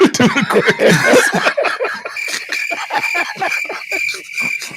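A voice imitates cricket chirps, producing quick repeated chirping bursts close and loud, with chuckling laughter mixed in at the start.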